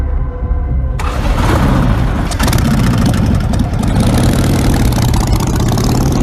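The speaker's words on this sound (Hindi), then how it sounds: "ये साहब अपनी मोटरसाइकिल पर लंदन के ट्रैफिक से भरी सड़कों पर जाने वाले हैं।" Motorcycle engine running steadily in busy London traffic, a loud continuous drone that kicks in after about a second and holds with layered road and traffic noise throughout.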